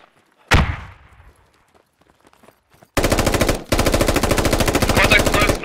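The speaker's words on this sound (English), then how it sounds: "Just get ready for them to shoot at us." Gunfire in the tactical shooter game Squad: one loud close shot with a trailing echo, then after a pause two long sustained bursts of rapid automatic fire, briefly broken in the middle.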